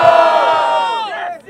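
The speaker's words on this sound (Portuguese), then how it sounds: "muito barulho para Fael e Lia" A loud crowd at a freestyle rap battle, Batalha do Tanque, roars and cheers together, a sustained wall of shouting voices that swells and then fades at the end.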